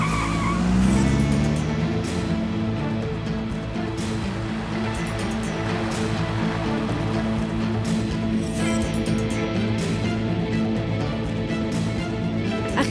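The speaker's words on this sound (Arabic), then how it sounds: "امشي ورا السيارة السوداء بسرعة" Cars speed along in a high-speed chase, one following a black car, engines roaring steadily and tires squealing near and loud throughout, with a dense music-like bed underneath and no talk.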